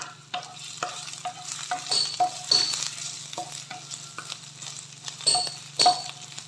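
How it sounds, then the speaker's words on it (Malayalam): Garlic paste is sautéed in a pan, with repeated close spatula scrapes and light clinks over a soft sizzle and no speech. "ഇത് നല്ലോണം വഴറ്റി വെക്കും."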